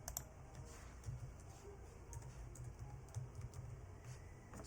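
Fingers tap a computer keyboard in quick, light bursts of soft clicks, faint against a quiet room hum, while text is typed during a video-editing session.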